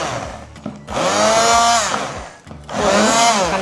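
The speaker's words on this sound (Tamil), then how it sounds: "இப்போ நம்ம பால் ஊற்றி நல்லா பிளெண்ட் பண்ணுறோம்" A kitchen blender whirs loudly while blending carrot kheer with milk, two close sustained bursts with a short pause between them.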